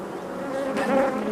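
Honeybees hum steadily at the hive, a dense continuous buzz with a wavering pitch that swells slightly midway, close and fairly loud.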